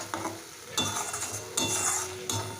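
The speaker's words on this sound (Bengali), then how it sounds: "এবার সর্ষে বাটার সাথে মশলাটা আরও খানিকক্ষণ কষিয়ে নেব" Spices being stir-fried with white mustard paste in a pan for a mustard fish curry, with a soft steady sizzle broken by a few louder scraping stirs of a utensil against the pan.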